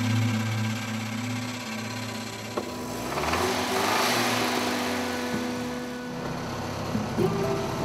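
A vehicle engine running steadily after a fuel delivery fault on one of its tanks, a close, continuous buzzing drone with a slight rise in intensity partway through.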